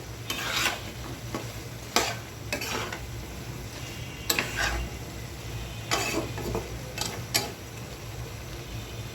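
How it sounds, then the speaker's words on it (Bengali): Taro stolons and jackfruit seeds are stirred in a frying pan for a dried-shrimp curry, with close, repeated scraping strokes of a spatula cutting through a steady low sizzle. "এখন আমি কেটে রাখা কাঁঠালের বিচি এবং কচি লতিগুলো দিয়ে দিচ্ছি। সুন্দর করে নেড়ে চেড়ে দিচ্ছি।"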